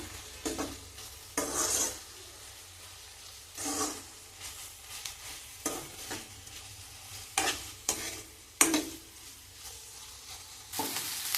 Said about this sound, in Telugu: ఎండు రొయ్యలు కూడా కాస్త ఫ్రై అవ్వాలండి